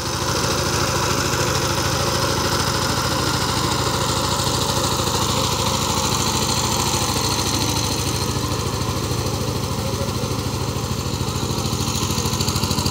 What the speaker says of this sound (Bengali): আজকে ইঞ্জিনের সাউন্ডটা অনেক ভালো শোনা যাচ্ছে।